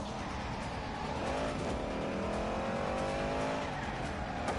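A car is driven hard around a track lap, its engine wailing and shifting pitch continuously as it passes through corners, with faint tyre noise, fairly distant and without talk.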